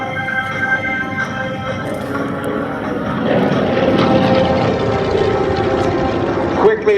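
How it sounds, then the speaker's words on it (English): Vintage propeller warplanes, including a P-40 Warhawk, drone overhead at an air show, a steady engine hum that swells louder midway as an aircraft passes close. "the pilot, Warren Peach, does a quick loop and puts himself in an offensive position at the 6 o'clock position of the P-40 Warhawk being flown by Doug Rosendahl"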